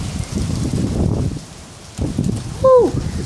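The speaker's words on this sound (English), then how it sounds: "It's windy out right now" Strong wind gusting during a severe thunderstorm, a broad roaring rush with rising and falling surges close to the microphone, briefly easing before building again.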